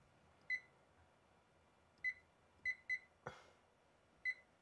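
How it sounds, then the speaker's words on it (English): Kitchen oven timer giving single short electronic beeps at irregular intervals, faint and distant in a quiet kitchen, with one brief clatter in between. "I'll set a timer for 7 minutes."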